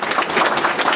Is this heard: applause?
yes